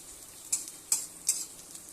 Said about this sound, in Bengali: এখন শুকনো লঙ্কা ফোড়ন দিলাম